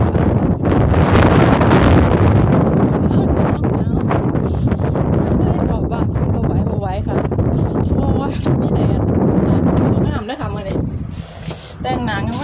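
Strong wind blows outdoors on a cold, wet day, roaring steadily across the microphone in loud rumbling gusts, with someone talking over it.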